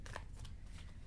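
A brief, soft riffle of playing cards being shuffled close by, a quick papery flutter lasting about a second.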